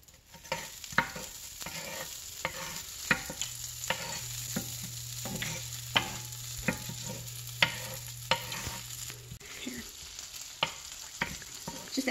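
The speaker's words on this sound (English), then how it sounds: "we're going to saute the garlic and onions" Onions and garlic sauté in melted butter in a hot pan with a low, steady sizzle, broken by frequent light taps and scrapes of a spoon stirring, while a faint hum runs underneath for several seconds.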